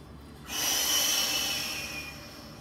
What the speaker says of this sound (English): Exhale all the breath away.